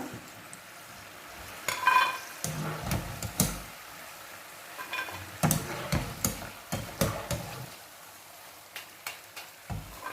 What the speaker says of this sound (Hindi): तो चने हमने सारे फ्राई कर लिए, क्रिस्पी हो गए ये